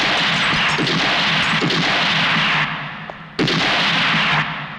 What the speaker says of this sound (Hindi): विश्वनाथ, इस तरह तस्वीर पर गोलियां चलाने से तुम्हें वो सब कुछ तो नहीं मिल जाएगा जो तुमने खोया है.